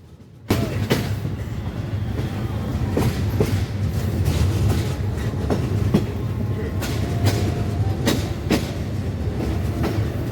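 Mohanagar Godhuli Express, a Korean-coach intercity train, at Brahmanbaria railway station: a steady low rumble with periodic wheel clacks and rattles, heard close from inside, no talking.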